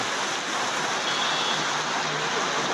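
Heavy rain pours steadily at the Mirpur bus stand, a dense, even hiss of downpour with no break across the short stretch.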